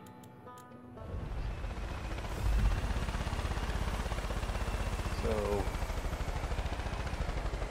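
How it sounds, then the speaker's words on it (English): A hostile helicopter flying in the video game Far Cry 5, its steady rotor thrum rising and holding loud over the game scene, with a player speaking briefly. "that's not a hostile helicopter, is it? That is."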